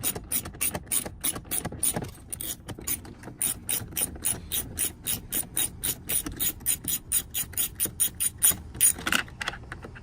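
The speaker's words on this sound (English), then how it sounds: "So we'll pull out the Torx." A ratchet wrench backs a Torx 30 screw out of a 2005-09 Ford Mustang door panel, a rapid run of crisp clicking bursts repeating close up, speeding toward the end, with no voices.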